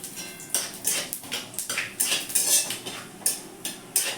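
A metal utensil stirs bay leaf, dried red chilli, cinnamon and cumin seeds in a pan, giving rhythmic, close clinks and scrapes about twice a second over a light background hiss.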